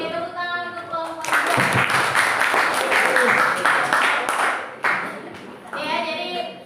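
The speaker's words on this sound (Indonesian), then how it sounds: "Oke, tepuk tangan untuk kelompok." A school class claps for a student group, a burst of mixed hand clapping lasting a few seconds, with a teacher's voice before and after and children's voices audible around it.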